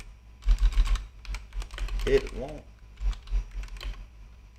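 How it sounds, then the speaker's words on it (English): Quick bursts of keystrokes on a computer keyboard as text is typed into a text box in the TradingView charting app, with a person talking over the clicking. "If we keep typing,"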